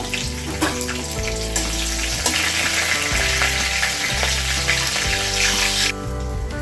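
Dried red chili, green chili and panch phoron sizzle in hot oil for a Bengali kul and tomato chutney, giving a loud, continuous crackling fry with occasional stirring scrapes and low background hum, and no talking.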